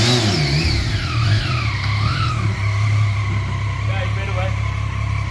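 A Yamaha MT-09 motorcycle, rebuilt and kept at its compliant exhaust, idles and revs with a steady, loud engine drone and rising and falling pitch sweeps, while a person talks over it.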